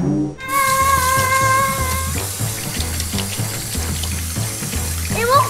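A garden hose sprays water in a steady, loud hiss that runs close throughout, with a music-like tone and voices mixed in.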